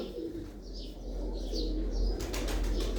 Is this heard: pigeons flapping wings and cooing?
yes